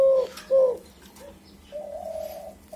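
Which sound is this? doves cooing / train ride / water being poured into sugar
doves cooing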